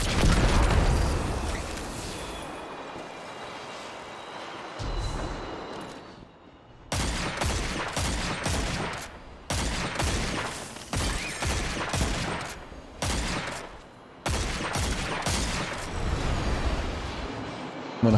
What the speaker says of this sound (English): And then I'm going to rocket it twice.